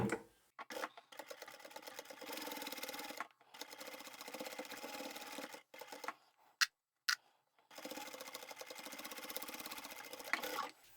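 A sewing machine stitches both sides of a fully lined, expandable shoe storage bag in several rapid rattling bursts separated by short pauses, with a few sharp clicks between runs, close and fairly quiet.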